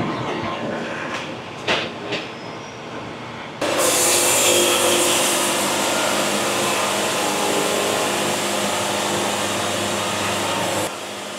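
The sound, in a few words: sawmill blade cutting log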